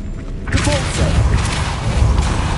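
Depulso force spell cast in Hogwarts Legacy, an abrupt booming blast with a rushing whoosh that erupts after a brief hush and sustains as a dense, rumbling magical surge.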